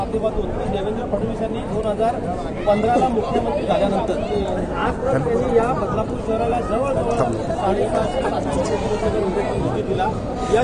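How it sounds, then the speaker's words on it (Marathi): Crowd of BJP party workers celebrating an election win in Badlapur, a steady dense babble of many voices and chatter at close to mid distance, continuous throughout. "बदलापूरमध्ये भारतीय जनता पार्टीचा हा जल्लोष जो आहे तो आता साजरा करण्यात येतो आहे"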